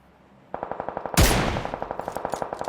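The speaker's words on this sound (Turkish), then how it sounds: "Kim sıkıyor lan?" Rapid automatic gunfire rattles in a steady rhythm in the video game PUBG Lite, interrupted by a loud explosive blast before the rapid shots resume.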